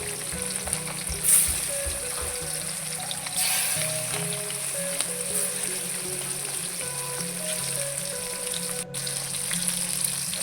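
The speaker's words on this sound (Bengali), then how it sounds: "মাছ ভেজে নিই মাছ ভাজার পরে করে সব তরকারিগুলো নামাতে হবে" Snakehead fish fries in oil in a village kitchen, a steady close hiss and bubbling sizzle continuing throughout with a few light clinks and shifts.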